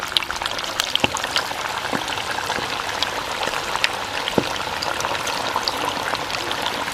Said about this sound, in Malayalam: ഓയിൽ ചൂടായിട്ടാണ്. അപ്പോൾ നമുക്ക് ഓരോ കഷ്ണങ്ങളിട്ടിട്ട്,